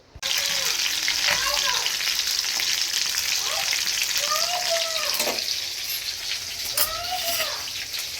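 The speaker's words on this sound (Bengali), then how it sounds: "মাছগুলো ভাজা হয়ে গেছে" Fish fry in a pan with a loud, steady, close sizzle that holds throughout. A few brief high-pitched, meow-like cries rise over the frying.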